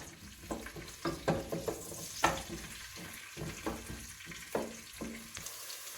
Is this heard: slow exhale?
no